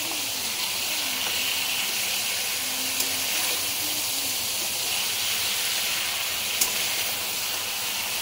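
Small fish sizzling in hot oil in a pan for a Bengali fish curry, a steady loud frying hiss with occasional faint pops and no talking.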